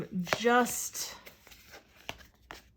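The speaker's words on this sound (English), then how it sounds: "I'm going to keep shuffling." Tarot cards being shuffled, a short papery riffle and soft slides, close and fairly quiet, briefly overlapping a voice.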